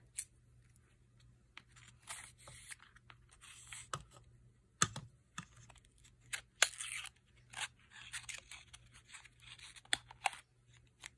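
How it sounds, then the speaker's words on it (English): Scissors snip and crunch through the packaging of a beauty box, a series of close, sharp, irregular cuts and rustles spread across the clip, quiet in between. "Gonna have to open it with scissors."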